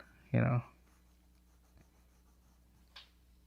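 Pencil scratches on paper while drawing a stick-figure robot: one brief, close scribble followed by a faint short stroke a few seconds later, in an otherwise quiet room.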